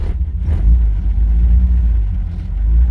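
Car engine running rough after failing to idle, a loud, low rumbling drone that holds steady with slight surges when given gas, close by and alone.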